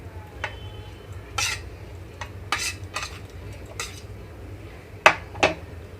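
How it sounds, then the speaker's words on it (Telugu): A spoon scrapes and clinks as fried green chillies for a chutney are moved from a pan into a mixer jar, with a handful of sharp metallic taps over a low steady kitchen hum and no talking. "ఇక్కడ పచ్చిమిరపకాయలు మొత్తం వేయించుకున్నవంతా కూడాను మిక్సీ జార్లోకి తీసుకుంటున్నాను"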